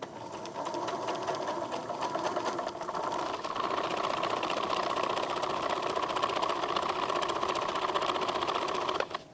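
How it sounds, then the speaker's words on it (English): A sewing machine stitches shirring on flat fabric in a fast, even whirring run that holds steady for several seconds before stopping abruptly. "So I will start at the one on the far right and just sew."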